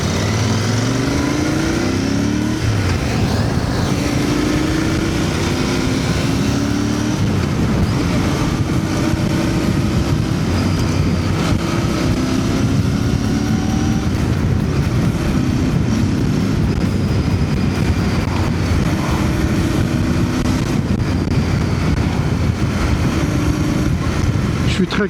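A Royal Enfield Interceptor 650 twin cruising on the road, fitted with Shock Factory rear shocks, its engine droning loud and close throughout with rising and falling pitch as it shifts and accelerates, mixed with wind rush.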